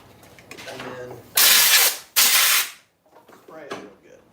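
A spray can hisses out in two loud bursts, each about three-quarters of a second, while a knife sheath is being finished at a workbench. Quieter handling noise comes before and after.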